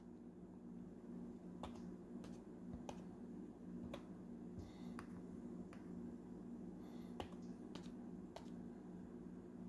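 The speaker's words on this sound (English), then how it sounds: "We're going to type in Tupac" Fingertips tap on a 12.9-inch iPad screen to type, making sparse, soft, irregular clicks over a quiet, steady room hum.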